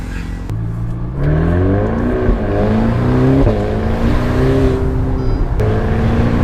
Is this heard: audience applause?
no